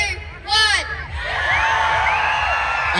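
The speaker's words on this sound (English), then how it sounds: "Get the audience to cheer for it." Bonfire night audience at Sandstone Point cheering and whooping together, a loud crowd roar swelling after a brief shout and holding steady to the end.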